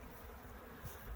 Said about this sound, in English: I have lots of bees in this red hive on the end